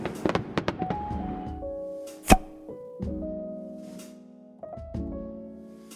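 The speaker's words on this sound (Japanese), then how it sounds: "今回2025年は発表では1000発で20分間の打ち上げだ" Fireworks launched over Lake Saiko during the Ryugu festival: a quick run of sharp pops and cracks, one loud boom near the middle, then long fading tones and softer bursts at a distance.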